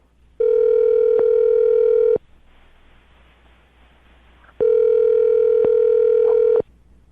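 Two long, steady telephone dial tones sound before a number is dialled, each lasting about two seconds, with a short quiet gap of faint line hiss between them.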